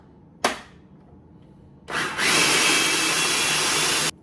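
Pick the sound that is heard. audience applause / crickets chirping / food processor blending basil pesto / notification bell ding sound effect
food processor blending basil pesto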